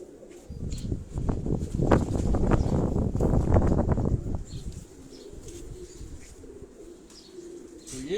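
Pigeons coo in a breeding cage, low throaty calls bunched through the first half then thinning out, with some wingbeats and chirps amid steady background noise.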